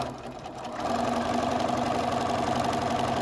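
Sewing machine stitching a fabric postcard, a steady mechanical whir that picks up and grows louder after a quiet start, then runs evenly at a constant fast rhythm.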